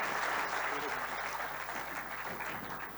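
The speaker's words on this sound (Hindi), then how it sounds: "हम तालियों के साथ पास्टर का स्वागत करेंगे हम।" Fairly faint, steady applause from a church congregation welcoming a pastor at a harvest festival, a continuous soft wash of clapping with some murmuring voices underneath.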